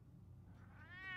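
A cat meowing in the Batman Telltale game, a single short rising meow, close and soft, ending the clip over a low background hum.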